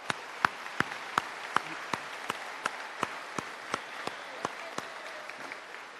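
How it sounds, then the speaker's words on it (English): Scattered, evenly spaced claps ring out at a graduation ceremony audience, a thin and fairly faint round of applause with single sharp hand claps arriving about twice a second for several seconds. "One more big round of applause."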